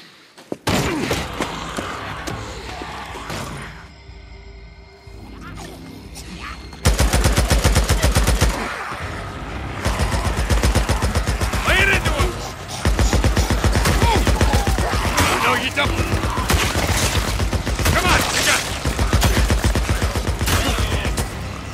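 Sustained gunfire in the video game Days Gone: rapid, loud automatic bursts with hard thuds and slams, a short lull near the start, then a steady stream of shots running to the end.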